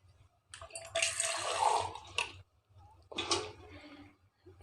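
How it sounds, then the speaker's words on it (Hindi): Water is sprinkled by hand onto soaking wheat grains, heard as two close, splashy bursts of spray separated by a pause, with a low hum underneath. "2 या 3 दिन हम ऐसे रखेंगे और पानी का छींटा देते रहेंगे इसको"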